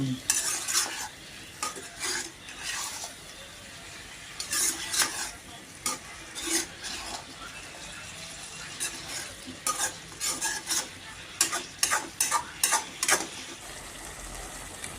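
Chicken for masala chicken sizzles and fries in a pan while a utensil stirs and scrapes in repeated bursts, fairly close, with no talking.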